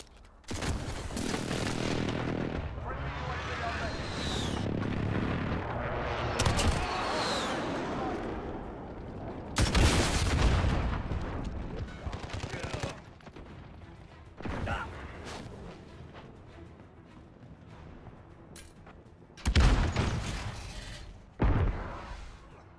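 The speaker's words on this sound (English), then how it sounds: "Be advised, friendly precision airstrike inbound." Precision airstrike explosions in Call of Duty: Modern Warfare land in repeated heavy bursts, with loud broadband booms and crashes separated by quieter stretches of lingering rumble and debris.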